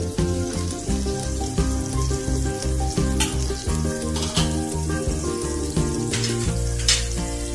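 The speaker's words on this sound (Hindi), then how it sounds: "बटर मेल्ट हो रहा है" Butter melting and sizzling in a pan for a paneer fry, a steady close crackling fry with faint tonal hum underneath and occasional sharper pops, no talking.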